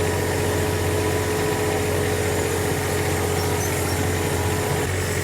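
A John Deere 1025R compact tractor with a loader-mounted snow blade idles close by, a steady, even engine drone with a low rumble that holds unchanged the whole time, no voices over it.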